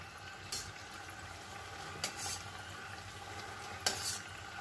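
Kachori sizzles in hot oil with a soft, steady bubbling hiss, broken by a few brief brighter splutters as the pieces are stirred or turned, heard faint and close without voices.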